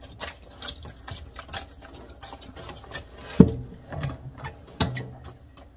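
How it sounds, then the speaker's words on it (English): Dirty dye water is poured and sloshed off hanks of yarn, giving patchy splashing and dripping patter with a couple of sharper splashes partway through, close and fairly quiet. "let's see if we slide this dirty water over."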